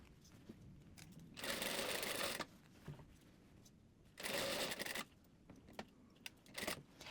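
A sewing machine stitches a mermaid dress seam in two bursts of rapid whirring, each about a second long, with a short third burst near the end and quiet handling noises between them.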